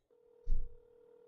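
A telephone tone sounds alone, a steady low beep holding for about a second with a single soft thump partway through, close and clear in a quiet room.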